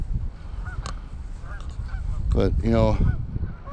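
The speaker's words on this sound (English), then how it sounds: "And then you have the geese that I kind of accidentally chased away," Geese honk in a loud burst of repeated calls near the shore of Lake Winnebago, rising over steady outdoor background noise, with a brief spoken remark just before.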